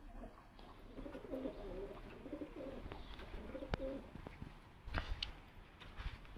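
Pigeons coo softly and repeatedly inside a coop, a low steady murmur of calls with a few sharp knocks and flutters, no talking.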